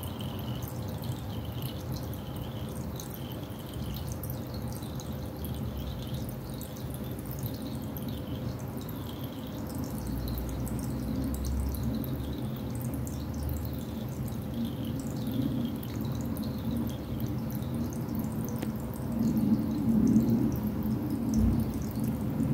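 Water emptying from a laboratory burette, a faint steady trickle with soft repeated drips running throughout, quiet and close, under a low room hum with no speech.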